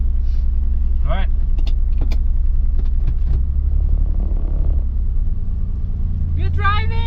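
Car driving with a steady low engine and road rumble throughout, while people talk and exclaim over it in the cabin.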